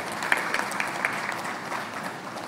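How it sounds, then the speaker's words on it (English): A live audience at a Cariflex event in Trinidad and Tobago claps in a steady, dense burst of applause that runs the whole short stretch without talk. "give us a round of applause"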